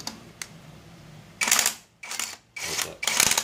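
A brushless 1/2-inch drive impact wrench undoes lug nuts in four short, loud, rattling bursts separated by brief pauses, after a faint click or two.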